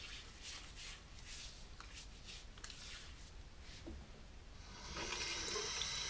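Tap water running in a sink to wash a hand after lathering almond-scented shaving soap from a block, a steady faint splashing stream that swells into a louder, brighter gush toward the end, with no talk.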